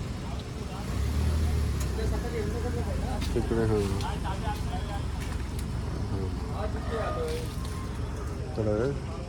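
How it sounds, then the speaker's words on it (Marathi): Cars pull up one after another at a rural farmhouse, a low engine rumble rising and settling close by while people talk over it throughout. "फार्म हाऊसवर एका पाठोपाठ गाड्या आता यायला लागल्यात"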